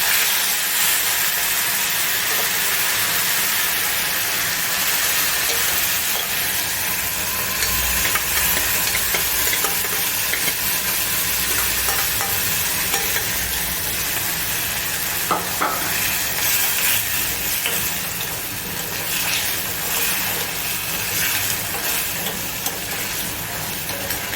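Turmeric is mixed into a Kathiyawadi kulthi (horse gram) curry in a pan, producing a loud, continuous sizzling hiss with steady scraping and stirring strokes close by for the whole stretch.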